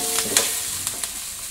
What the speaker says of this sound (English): I'm just gonna cook these vegetables until they shrink a little bit